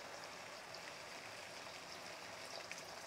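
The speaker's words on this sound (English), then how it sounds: "So I'm just going to dump in the water so that it basically reaches the top of the perlite" Water pours steadily into a perlite-filled propagation box as a continuous hissing, splashing rush, close and even from start to finish with no voices.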